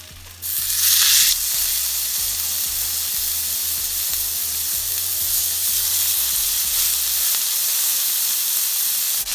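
Burgers sizzle steadily in an oiled pan, a loud continuous hiss with crackle that holds for several seconds, with soft low bumps underneath and no talk.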